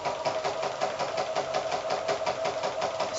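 A sewing machine runs a long, large stitch around the curved edge of a fabric strawberry pincushion. It makes a steady, close mechanical whir with a fast, even pulsing rhythm and no talking.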